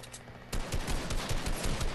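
Rapid gunfire from a sniper rifle battle in the Fortnite video game, Chapter 2 Season 3, erupting suddenly and loud after a quieter lead-in, with repeated sharp shots and bursts close up and no talking.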